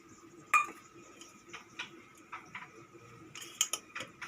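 A spoon stirs basmati rice with sweet khoa in a metal pot, producing a run of light clinks and scraping taps at an irregular pace, close and fairly quiet, with no voices.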